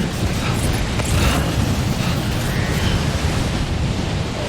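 Storm wind and crashing waves roar in the video game Death Stranding, a dense, steady wash of noise that stays loud and unbroken throughout.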